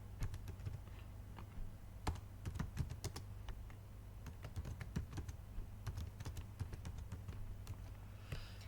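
Keys clatter on a computer keyboard in quick irregular bursts of soft clicks and taps, close and fairly quiet over a low steady hum, with no voices.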